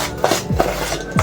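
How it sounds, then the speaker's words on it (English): A spoon scrapes and stirs dry cake-batter ingredients with cinnamon in a mixing bowl, making steady, close rhythmic scraping strokes about three per second, with no talking. "I'm mixing all dry ingredients together, and then all the liquid."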